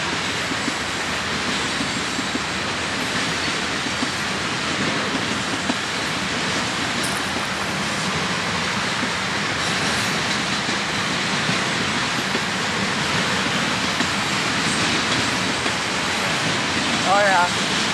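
A long train rumbles steadily past, a continuous broadband roar that holds level for the whole stretch, with no break in the noise.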